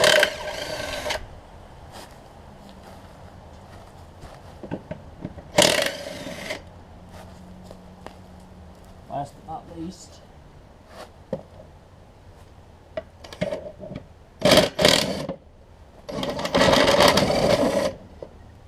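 An impact wrench zips off engine mounting bolts on a Troy-Bilt self-propelled mower deck, several short loud bursts spaced apart with quieter gaps, one brief spoken phrase between.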